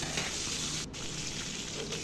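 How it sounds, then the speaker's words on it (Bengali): Live koi fish fries in hot oil in a pan, a dense continuous hiss that stays close and even, with one brief dip partway through. "এখন এটা উল্টে পাল্টে আমাকে মাছটা ভেজে নিতে হবে"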